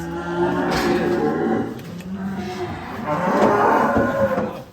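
Madura cattle mooing loudly and close by while being unloaded from a truck, two long drawn-out lowing calls with a short pause between them and faint background noise.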